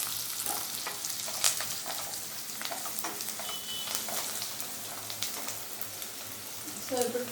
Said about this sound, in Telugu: సో ఆనియన్స్ ఆల్మోస్ట్ ఫ్రై అయిపోయాయి. సో ఇప్పుడు కొంచెం కరివేపాకు వేసుకోవాలి.